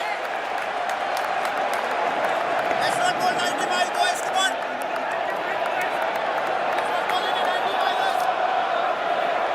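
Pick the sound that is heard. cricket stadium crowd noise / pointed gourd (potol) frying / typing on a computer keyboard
cricket stadium crowd noise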